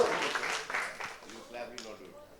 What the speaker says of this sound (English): all clap for Suraj ji